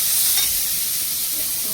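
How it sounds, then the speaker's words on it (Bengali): Chopped onion frying in a pan with five-spice tempering, a steady close sizzle with light stirring scrapes throughout, no talk over it. "পেঁয়াজটা একটু ভাজা হয়ে গেলে"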